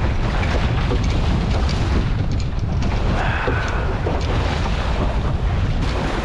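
Choppy water slaps around a small Welsford SCAMP sailing dinghy off Bruny Island, a loud, constant wash of surf and wind noise with no letup.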